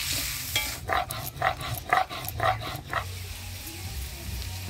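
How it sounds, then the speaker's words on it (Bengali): Potatoes frying in oil with a little turmeric and salt, a soft steady sizzle with a run of rhythmic stirring scrapes through the middle, close and moderately loud. "সামান্য হলুদ লবণ দিয়ে আলুটাও আমি ভেজে নিব।"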